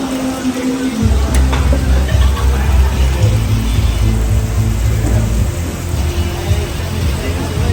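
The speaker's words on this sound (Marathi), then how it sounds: "पुणे आणि पुण्याचा पाऊस." Steady rain falls in Pune, a dense broadband hiss alongside a low rumble of passing road traffic, continuous and fairly loud throughout with no talk.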